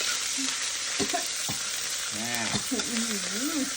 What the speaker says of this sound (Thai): ตั้งน้ำมัน ให้เดือดนะครับ เดือดแล้วใส่พริกแกง